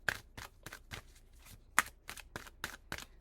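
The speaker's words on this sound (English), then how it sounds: "Let's shuffle your cards" Tarot cards are shuffled by hand in a rapid series of short, crisp riffling bursts at an even rhythm, close and fairly quiet.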